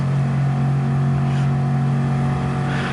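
Mazda 3 race car engine running in a slipstream during a racing video game, a steady loud droning hum with constant harmonics, held evenly throughout with no talk.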